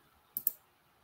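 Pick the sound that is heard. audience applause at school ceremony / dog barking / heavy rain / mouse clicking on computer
mouse clicking on computer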